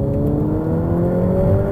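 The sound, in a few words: Ferrari F8 Tributo turbocharged V8 engine revving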